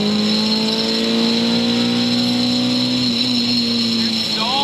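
A K24-swapped Mazda Miata with a naturally aspirated four-cylinder pulls uphill in fifth gear, giving a loud, steady engine drone with a slowly rising pitch and no break.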